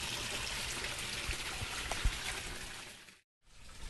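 Water pours and splashes steadily from an aquaponics system waterfall in a continuous stream, cutting out abruptly for a moment before resuming.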